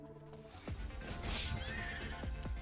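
A horse in the video game GFL2: Exilium gives a loud, drawn-out neigh that rises and falls, with a few hoof clip-clops and thuds around it, close and isolated with no talking.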